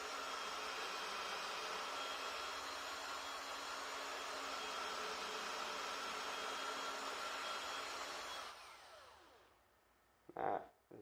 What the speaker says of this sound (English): I'm going to drill at an angle like that down into the stock